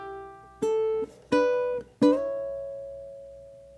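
Ukulele plays three plucked chords of bar 3 of America the Beautiful, each ringing out and decaying, the last one sustaining longest, alone and up close.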